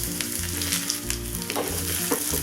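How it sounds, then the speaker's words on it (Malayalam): Loud, close crackling sizzle of chopped shallots and curry leaves frying in hot oil, continuous and dense with bright spattering pops, no voices. "ഇതൊന്ന് മൂക്കാൻ ഒന്ന് വറുത്തെടുക്കാം."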